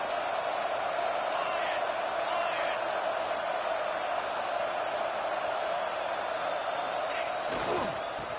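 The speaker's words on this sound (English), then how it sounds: "this crowd is fired up. Listen to this noise here" A large stadium crowd at a college football game roars steadily throughout, a dense wall of cheering and shouting with a sharp bang near the end.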